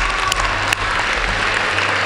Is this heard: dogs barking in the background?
no